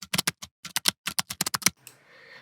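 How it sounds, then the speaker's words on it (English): A computer keyboard is typed on quickly and close by, about fifteen sharp key clicks coming in uneven bursts before they stop and a soft hum is left. "So I will press Windows and 2 keys at a time"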